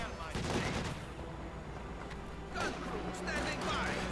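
DShK heavy machine gun fire in Company of Heroes 2, with rapid bursts of shots sounding at moderate distance amid battle noise while a commentator talks over it.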